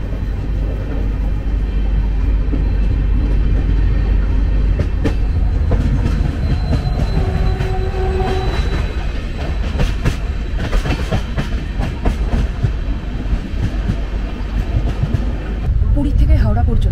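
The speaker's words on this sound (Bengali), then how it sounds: "সিঙ্গেল রিফারবিশড স্বর্ণ রেক নিয়ে আজকের শতাব্দী 12278 জার্নি শুরু করলো পুরী স্টেশন থেকে" Shatabdi Express 12278 with a single refurbished Swarna rake departing Puri station, heard from inside a coach: steady loud rumble and clickety-clack of wheels on rails, with a brief faint squeal midway and rising clatter later on.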